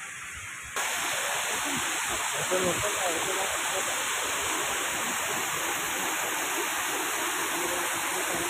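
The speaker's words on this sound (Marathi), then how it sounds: "मंदिराच्या मागच्याच बाजूला ही बघा नदी आहे." Flowing Amba river at Jambhulpada near Khopoli beside a temple: a steady, close rushing of water that fills the clip after a brief quieter start, with a voice faintly talking under it.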